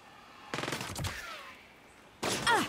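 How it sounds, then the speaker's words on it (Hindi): Rapid bursts of automatic gunfire in the video game Saints Row (2022), a quick rattling volley followed by a pause and then another sharp burst. "किधर से गोलियां मारा"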